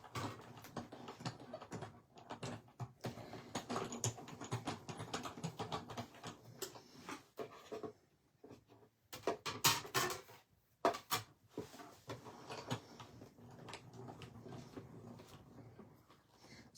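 A paper embossing folder is cranked through a die-cutting machine for a vintage floral card, heard as soft, dense clattering and rattling with short pauses, close by and fairly quiet, without talking.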